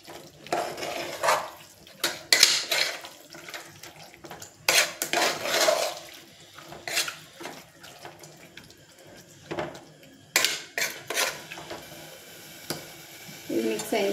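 Metal spoon stirring chicken and field beans in a pot, irregular scraping and clanking bursts with short pauses between, close and fairly loud.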